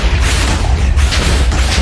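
The Wither boss in Minecraft explodes as a deep, loud, sustained booming blast with heavy rumbling low end and crackling noise, continuous throughout.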